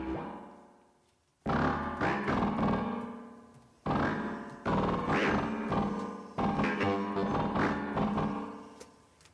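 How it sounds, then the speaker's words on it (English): A Korg Volca synth patch named Talking Droid plays a series of sharp, percussive bursts in an irregular rhythm. Each burst decays quickly and carries a shifting random pitch, giving a choppy, robotic chatter quality. "This patch is called Talking Droid and it sounds like this."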